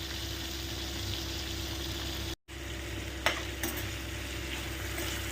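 Capsicum pieces frying lightly in a pan for chilli paneer, giving a steady close sizzle throughout, with a brief drop to silence midway and a couple of faint clinks of stirring afterward.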